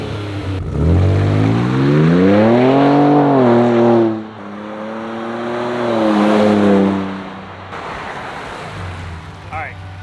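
A Ford Ranger Raptor engine in sport mode revs up loudly and close, climbing in pitch, dropping back, then surging again in a second rev before settling to a rough idle.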